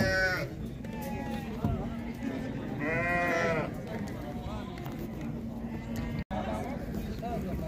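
Sheep and lambs bleat repeatedly at a livestock market in Shymkent, several calls rising over busy crowd chatter and background noise, with people talking throughout.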